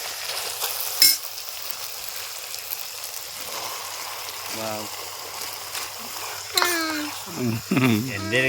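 Chicken frying in a pan for a roasted-coconut country chicken curry cooked at a tent campsite at night, a steady close sizzle and hiss throughout, with a person talking over it near the end.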